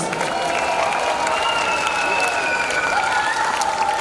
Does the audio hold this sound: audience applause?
yes